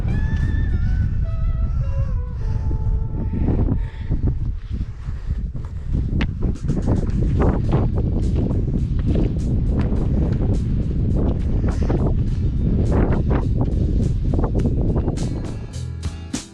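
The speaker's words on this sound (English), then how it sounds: "nice just to get out of the wind for a minute" Strong wind gusting across a misty hill summit by a stone cairn and trig point, a loud continuous buffeting roar on the microphone with rustling bursts throughout.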